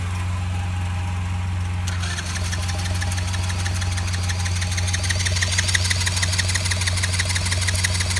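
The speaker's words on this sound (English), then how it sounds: "I'm gonna go try to crank this over a little bit and see if it does anything different" Engine of a Chinese quad cranking over on choke, jumper-assisted: a steady low mechanical drone that jumps in intensity around two seconds in, then continues as rapid, rhythmic ticking and churning close up, with no talking.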